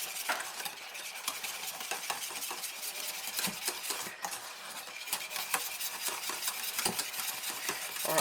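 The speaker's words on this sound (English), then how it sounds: "you want to whisk it real quick" A whisk beats egg yolks into the filling for a banana caramel tart, rapid clicking strokes against a bowl with a steady scraping rhythm, close up, with no talking.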